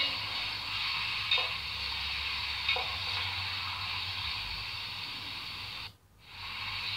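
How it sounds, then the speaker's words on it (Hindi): Chicken pieces fry in a pan with onion, a loud steady sizzle and hiss with a few stirring scrapes, broken by a brief drop near the end. "चिकन को अच्छे से फ्राई कर लें, इतना फ्राई करना है कि इसका कलर चेंज हो जाए।"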